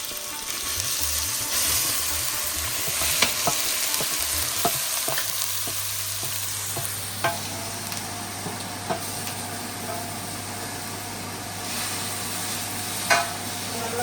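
Grated carrot frying in ghee for carrot halwa, a steady close sizzle with a low continuous hum, scattered clinks and scrapes of a spoon stirring through the pan over about fourteen seconds.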